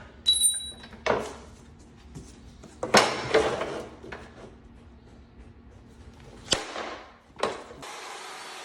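A handful of sharp clunks and snaps, spaced irregularly, as a laminate cutter blade chops down through a laminate flooring plank, close by with quiet pauses between.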